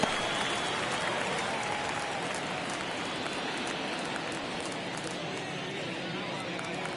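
Baseball stadium crowd in the MLB 23 video game during a tight ninth inning, a dense continuous roar of cheering and clapping that holds steady throughout, with no clear talk on top.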